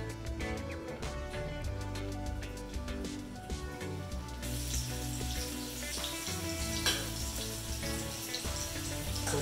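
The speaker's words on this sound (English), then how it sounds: "you're going to let them fry a little bit" Meatballs frying in hot oil for Italian meatballs, a steady, moderate sizzle with a continuous hiss throughout, no talking.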